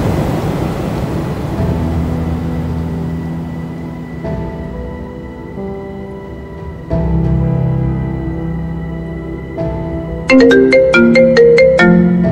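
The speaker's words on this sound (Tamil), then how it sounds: "இந்த நேரத்தில் யாரா ஃபோன்?" A mobile phone ringtone plays loudly, a synthesized melody of sustained tones that shift in steps and build, ending in a bright, rapid run of chiming notes; no talking.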